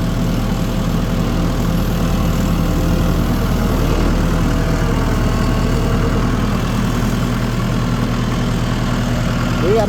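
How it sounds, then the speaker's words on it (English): Engine running in a steady low rumble, with a downshift audible as a gradual change in pitch, loud and continuous at close range. "We got a downshift."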